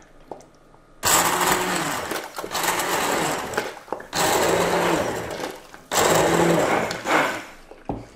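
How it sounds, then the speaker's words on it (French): Immersion blender pulsing through cooked pea soup, three loud sustained bursts of motor whir, each lasting about a second or two, separated by brief pauses, with no talking. "On passe au robot plongeant comme ça, et on va venir mixer."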